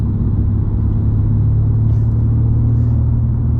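A Mercedes C63 AMG in race mode on the Nürburgring gives a loud, steady low engine rumble heard from inside the car, with a faint voice briefly underneath.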